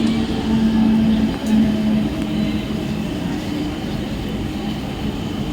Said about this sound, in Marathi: प्लॅटफॉर्म क्रमांक 2 पर आई हुई लोकल 8:42 की मुंबई छत्रपति शिवाजी महाराज टर्मिनस जाने वाली धीमी लोकल है